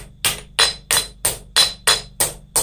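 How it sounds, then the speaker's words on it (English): A very small forging hammer strikes metal petals flush against a swage block, eight sharp, evenly spaced ringing blows landing close and loud in a steady rhythm. "take a small hammer, once again, a very small forging hammer, hold this down in here, and then hit those petals flush to the swedge block"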